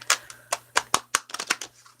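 Tarot cards being shuffled by hand close up, a quick series of crisp riffling slaps and flicks in an uneven rhythm over two seconds.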